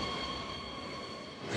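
A train in a Paris Gare de l'Est platform area gives a steady rumbling roar with a faint high whine, continuous and fairly loud, no talking.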